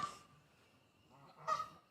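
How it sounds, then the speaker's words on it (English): Geese honk nearby in two bursts, one at the start and a louder one near the end, with quieter outdoor background between them. "They are so loud. They're talking to the other geese that landed."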